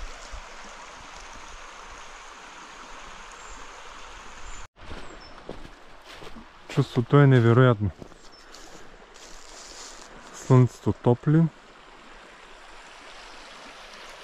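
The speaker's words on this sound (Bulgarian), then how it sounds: "Чуват се само птичките и шума на реката." A river runs through a winter forest in Strandzha, its steady rushing flow filling the background while someone speaks in Bulgarian in two short bursts; no birdsong stands out clearly.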